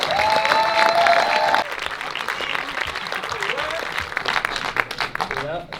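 A stage audience at a French film preview claps loudly to welcome two guests. The applause is steady and dense, then thins slightly, with voices and cheers rising over it.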